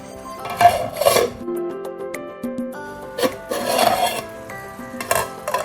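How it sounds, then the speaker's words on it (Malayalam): Metal pot lid set down on a pot of Kerala-style sardine (mathi) curry, giving a few clattering metallic clinks and scrapes in two bursts with quieter pauses between, no talking. "ഇനി നമുക്കിതൊന്ന് മൂടി വെച്ചിട്ട് ഒന്ന് ചൂട് കയറ്റിയെടുക്കണം"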